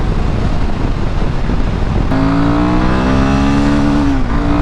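A Royal Enfield Himalayan 450 motorcycle accelerates hard through its gears, the loud engine note climbing steadily in pitch over constant wind roar, then dipping briefly at a shift near the end.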